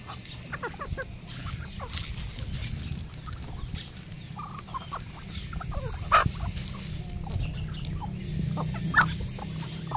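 Backyard chickens and ducks clucking and chattering as they are fed, a busy flock of overlapping calls under a low steady background hum, fairly quiet and with no talking.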